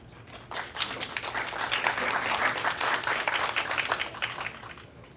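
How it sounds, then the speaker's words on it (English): An audience at a quarterly meeting claps for presentations, a dense, steady burst of many hands that swells quickly, holds strong for about four seconds and then tapers off. "So let's give another hand of applause for all our presentations."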